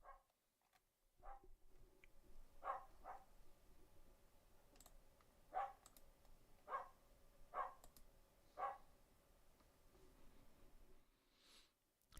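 Several dogs bark in short bursts, about five sharp yaps spaced a second or two apart, a little distant and fairly quiet against a low background murmur.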